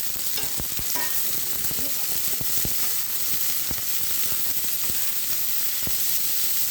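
Mixed vegetables, potato, cauliflower and capsicum, frying in a kadai as part of a Maggi masala dish, a steady loud sizzle with scattered sharp crackles and pops throughout, no voices.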